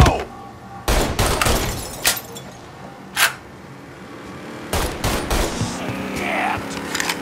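Bursts of gunfire from the video game Mafia III: loud broadband volleys around the one, two, three and five second marks, with a steady background of combat noise between them.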